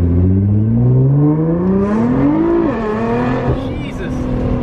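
A 2009–2017 Nissan GT-R tuned past 700 horsepower accelerates hard, its engine note climbing steadily in pitch, loud and close from inside, then easing off near the end.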